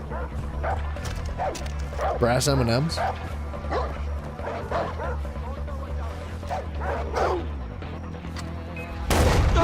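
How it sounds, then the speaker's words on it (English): An enemy dog in the Far Cry 4 video game barks repeatedly in sharp yips amid in-game gunfire and background game audio, while a person talks over the action throughout. "Where's this dog at?"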